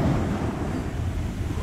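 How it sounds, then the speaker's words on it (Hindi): Ocean waves wash steadily onto an open seashore with no trees nearby, mixed with heavy wind buffeting the microphone, a continuous close roar with no pauses. "क्या लहरें हैं भाई"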